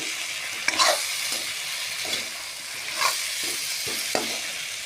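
Chopped tomato fries in a pan with a soft, constant sizzle, broken by a few distinct scraping strokes of a spoon stirring at an unhurried rhythm.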